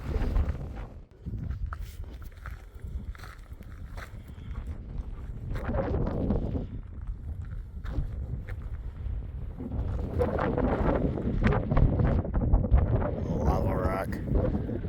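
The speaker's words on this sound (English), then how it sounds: "Welcome back, wind." Gusty wind buffets the microphone outdoors near the volcanoes of Petroglyph National Monument in Albuquerque, a rough low rumble that swells and fades throughout while a person speaks over it.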